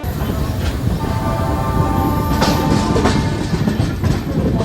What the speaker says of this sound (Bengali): আমাদের ট্রেন এই মুহূর্তে এসে পৌঁছালো খড়গপুর জাংশন রেলওয়ে স্টেশনে